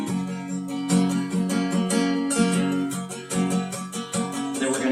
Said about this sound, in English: just with an up-down picking motion to the F